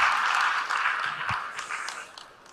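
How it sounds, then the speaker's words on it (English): A conference audience applauds the minister at a youth dialogue event, a steady wash of clapping that is loud at first, then thins and fades toward the end. "huge round of applause for our Honorable Minister"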